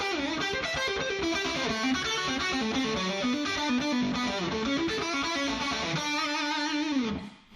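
Electric guitar with effects and distortion playing a Bach piano piece, fast flowing melodic runs in a repeating rhythmic figure, loud and close, ending on a sustained note that fades out.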